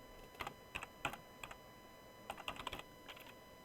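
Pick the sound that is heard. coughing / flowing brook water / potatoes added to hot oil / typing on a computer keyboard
typing on a computer keyboard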